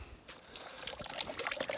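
Water trickling out of a trough outdoors, a brief soft dribbling and splashing with no talk.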